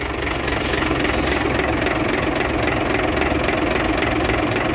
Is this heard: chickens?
no